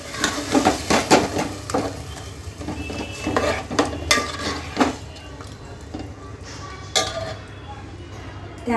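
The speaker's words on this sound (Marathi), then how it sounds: "चांगल्या प्रकारे मिक्स करून घेऊया आपण ते." Mashed taro leaves are mixed in a pan with red chilli masala, and a spoon clinks and scrapes against the metal in quick irregular strokes that ease off later. A faint sizzle runs underneath, and a voice speaks at points.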